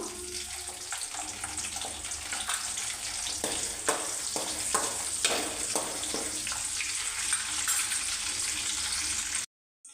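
Chopped onions and two bay leaves fry in a pan for a stuffed brinjal masala curry, giving a steady, close sizzle with occasional stirring clicks and scrapes before cutting off abruptly into silence.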